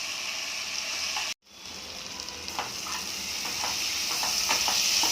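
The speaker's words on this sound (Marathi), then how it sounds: "व्यवस्थित तेलात परतून झाली पाहिजे" Capsicum sautéing in oil in a pan, a steady bright sizzle with a brief gap and occasional stirring scrapes, growing slightly louder toward the end.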